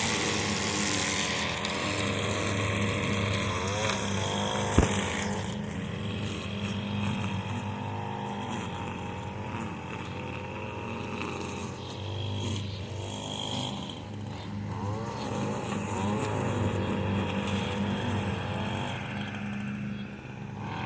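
The engine of a Craftsman riding lawn mower runs at slow RPMs outdoors, a steady low rumbling drone with slight wavering in pitch and one brief click partway through.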